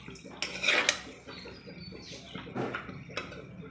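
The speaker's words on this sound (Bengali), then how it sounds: "দিয়ে এবার পুরো ফ্রায়েড রাইসটাকে ভালো করে মিশিয়ে নিতে হবে" Vegetable fried rice with black pepper is tossed in a pan, a metal spatula clanking and scraping in bright, uneven hits over a soft hiss, and no one speaks.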